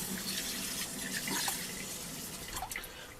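Tap water runs steadily into a sink as rice is rinsed a second time for Japanese rice, with a continuous close splashing rush and a few brief trickling drips.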